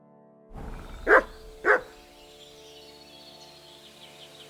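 Mutt, a dog in Kingdom Come: Deliverance 2, gives two sharp barks close together, rising out of a quiet outdoor background with faint bird chirps.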